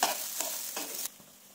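Coriander, coconut, onion and peanuts roasting in a pan are stirred in a few quick scraping strokes over a steady sizzle, and the sound drops away abruptly after about a second.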